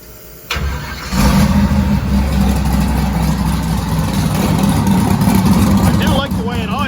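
A big-cam twin-turbo LS engine cranks and catches after a short click, then settles into a loud, lumpy idle that holds steady, heard close with no one talking over it.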